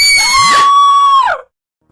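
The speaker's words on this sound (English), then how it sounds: "Screams floating down from the floor above." A single shrill scream drifts down from the floor above, rising and holding a high pitch for about a second and a half before breaking off into silence.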